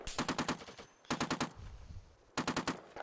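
Three rapid bursts of machine gun fire in the tank combat game Steel Beasts, each a tight rattling string of shots separated by short pauses, fairly distant and crisp with no voices.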